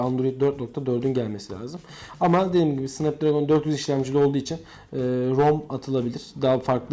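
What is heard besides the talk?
No everyday noise stands out behind the speech.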